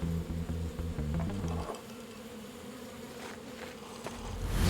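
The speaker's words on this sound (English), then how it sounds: "My beehives." Bees buzzing around beehives, a steady droning hum heard close and continuous throughout, with a brief louder patch of other noise at the start.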